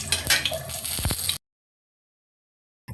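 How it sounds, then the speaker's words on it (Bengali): Dried chillies hit hot mustard oil and are stirred in a pan, giving a brief, bright sizzle with a faint clink that cuts off abruptly into silence. "এখন দিয়ে দিব শুকনো মরিচ, একটু নেড়ে দিতে হবে।"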